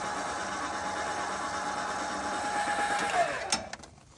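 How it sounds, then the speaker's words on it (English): An electric tongue jack on a camper hitched with an Equal-I-zer hitch hums steadily as it lowers the tongue onto a block, then winds down with a few clicks and stops. "send the tongue jack down onto the block"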